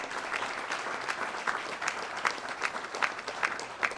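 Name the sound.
audience applause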